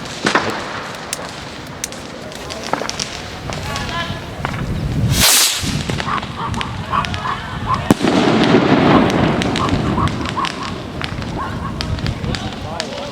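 Cobra firecrackers go off outdoors in Valencia: a sharp, loud blast cuts through, followed by crackling pops and rustle, with people chatting excitedly nearby before and after.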